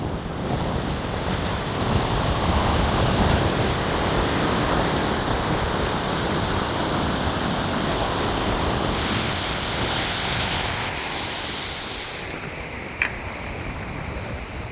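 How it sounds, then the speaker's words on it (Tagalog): Sea waves rolling and washing steadily while strong wind buffets the microphone out at sea on a fishing trip, a broad constant roar with no voices. "medyo malakas na ang hangin. Kaya naman ang alon"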